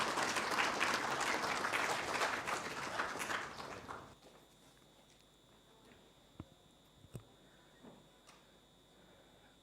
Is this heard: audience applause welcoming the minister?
yes